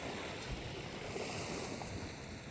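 Steady wash of waves on a Great Lake shore in Ontario at a provincial park in spring, a continuous broadband surf roar mixed with wind buffeting the microphone, no voices.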